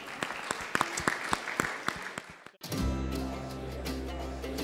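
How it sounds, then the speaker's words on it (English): An audience at the British Energy Challenge event in Liverpool claps with sharp, distinct, fairly light hand claps for about two and a half seconds. The clapping then cuts off, leaving a steady low hum. "Give yourselves a round of applause"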